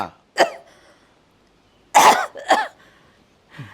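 Four separate coughs, close and fairly loud, spaced out with quiet pauses between them; the middle two come in quick succession.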